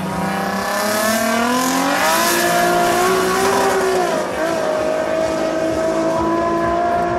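A race car engine roars loudly and continuously, its pitch climbing and dropping through gear changes as it accelerates, with a hint of tire noise, during a timed tuning-car race run.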